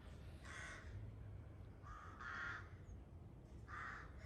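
Three loud, harsh crow caws spaced a second or so apart, close by in a September garden, over faint background hum.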